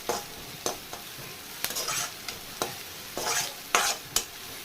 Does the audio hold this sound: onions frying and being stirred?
yes